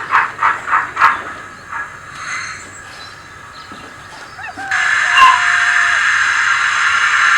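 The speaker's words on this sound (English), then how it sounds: "Dead on time, the King's Lynn train arrives at Dearsley." A steam-hauled goods train arrives at a station, with rhythmic chuffing puffs followed by a long steady steam hiss and a faint squeal of brakes, fairly close.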